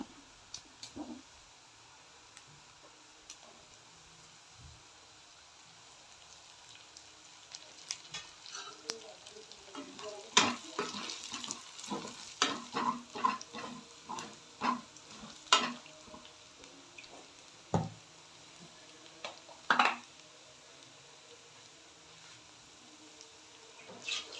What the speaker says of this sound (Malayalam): ബ്രൗൺ കളറാകുമ്പോൾ വേപ്പില ഇട്ട് കൊടുത്ത് ഇളക്കുക